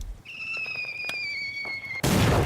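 Mortar shell effect for a tabletop wargame battle: a thin descending whistle runs for nearly two seconds, then breaks into a sudden loud burst of explosion noise that continues to the end.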